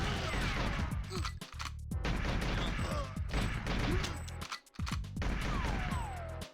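Rapid bursts of gunfire in the N64 video game GoldenEye 007, loud clattering volleys in quick succession with brief gaps, layered with game sound effects.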